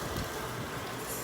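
A blender grinds plant-based meat and pepper with a loud, steady motor roar and churning whir that runs unbroken from start to finish.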